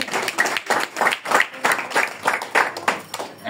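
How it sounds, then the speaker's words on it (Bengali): A crowd at a Christian wedding ceremony claps in steady bursts of applause, loud and close, with no talking over it. "আমরা একটু জোরে হাততালি দেই"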